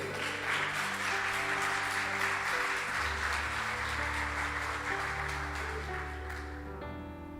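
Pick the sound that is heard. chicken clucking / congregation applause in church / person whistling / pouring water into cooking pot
congregation applause in church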